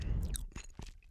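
A brief, close, quiet burst of chocolate chip chewing for ASMR: a few soft, moist crunches and mouth noises, with no voice.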